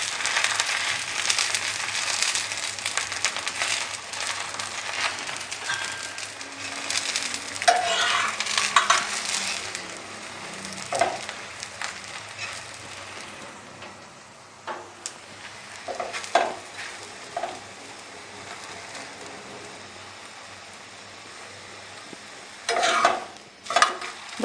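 Makai roti cooks in desi ghee on a hot pan, a steady sizzle and fry with scattered sharp taps and scrapes of a spatula, close and fairly loud.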